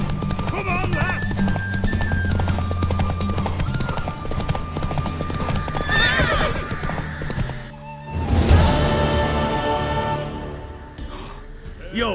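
A horse gallops in The Witcher 3 video game, its rapid hoofbeats clip-clopping loudly and steadily under shouting voices, followed by a neigh and a heavy crash.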